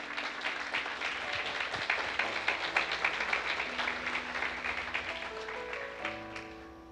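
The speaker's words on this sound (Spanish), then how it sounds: "Dele ese aplauso al Señor." A church congregation applauds during a Christian sermon: steady, dense clapping fills the room at moderate level, thinning slightly toward the end, with faint sustained tones beneath.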